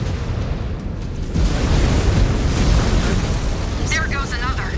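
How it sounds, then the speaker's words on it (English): Incoming missile explosions in MechWarrior 5: Clans, a dense, continuous low rumble of blasts that swells after the first second, with a brief warbling electronic tone near the end. "Incoming missile."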